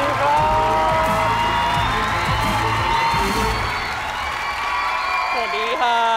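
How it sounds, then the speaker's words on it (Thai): A studio audience at a Thai television game show claps and cheers for contestant Spire, with loud sustained applause and whoops running throughout as a host's voice talks over it. "ขอเสียงปรบมือดังๆให้กับคุณสไปร์ครับผม"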